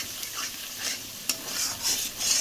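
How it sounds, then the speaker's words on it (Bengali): Spice paste with whisked sour yogurt sizzles and fries in a pan while a spoon stirs and scrapes through it in repeated strokes, a close, steady hiss broken by small clinks, no voices. "মশলাটা কষিয়ে নেব।"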